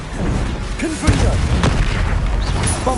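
Repeated fire-spell blasts from the Hogwarts Legacy video game, dense booming bursts layered over shouted spell incantations and game effects, loud and continuous throughout.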